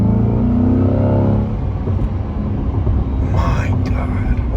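A C8 Corvette launches with launch control. The engine roars loudly, then the note drops away into rumbling road noise as the car pulls hard. Voices can be heard in the car.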